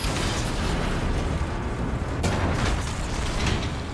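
Cannon fire in Resident Evil 4, a dense rumbling blast with a sharper burst near the middle, loud and continuous over a booming game soundscape without speech.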